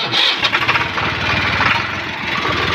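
A nearby motor sputters into life with a few quick chugs, then settles into a loud, steady running drone.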